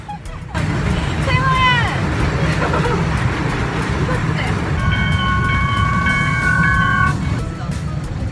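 Steady rumbling of a small Thomas-style amusement park train ride with a whistle-like tone midway and a sustained horn toward the end, amid background crowd murmur.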